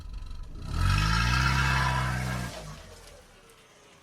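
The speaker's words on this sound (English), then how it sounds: "I sit down and start the car. Drive off." A car engine starts with a short crank and settles into a low idle rumble with a mid-range whir, then quiets as the car pulls away, heard close with no talking.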